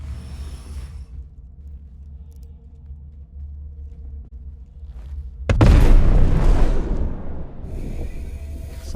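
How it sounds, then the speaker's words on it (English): A sudden loud explosion goes off in the video game Star Citizen, cutting through a quiet low hum with a sharp blast and a rumbling roar that fades over a couple of seconds before the hum returns. "Something just exploded."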